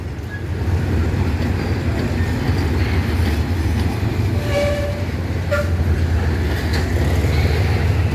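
Train 284 rumbles steadily nearby as it arrives at platform 5 of Bangkok's Hua Lamphong station, with a deep continuous drone, faint squeals and brief tonal whistles rising over the rolling noise.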